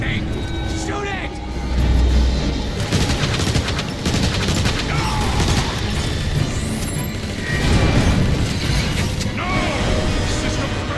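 Rapid gunfire and blasts from the video game Transformers: War for Cybertron, loud and continuous over a busy battle mix with mechanical clanks and occasional heavier impacts.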